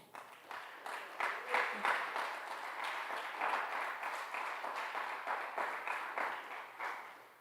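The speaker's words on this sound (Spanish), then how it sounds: "Vamos a darle palmas al Rey." Congregation at a Sunday Tzeltal church service clapping in a quick, regular rhythm, bright claps building within the first couple of seconds and holding steady, with a faint voice underneath.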